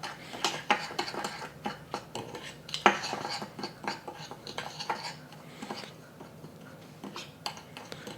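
A utensil stirs a yellow dish in a bowl, producing steady clinks and scrapes against the sides in an uneven rhythm, close by with no talking.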